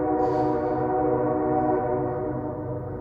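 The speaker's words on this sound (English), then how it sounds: "I can see the train now." A train rumbles past a wooded hiking trail in Maine, a steady loud low drone with layered tonal hum and a faint whistle-like tone at the start, holding even over several seconds.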